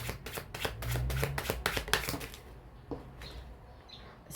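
Tarot cards handled and laid down on a table, a quick run of crisp slapping and shuffling flicks up close, then a quieter pause with a couple of soft taps.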